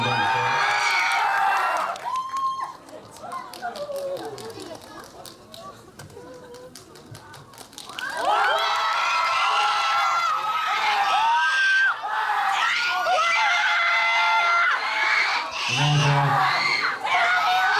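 A crowd at a film stage greeting for the Korean movie 'Today's Love' cheers, whoops and claps loudly, a swell of shouting that dips briefly mid-way before surging back strong and sustained, with an announcer's voice cutting in at moments.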